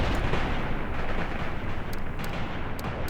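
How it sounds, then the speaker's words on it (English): Dense, rumbling barrage of an artillery strike in the tactical war game Graviteam Tactics, a continuous loud roar of distant blasts with a few sharp cracks layered on top. "So, one more artillery strike on them."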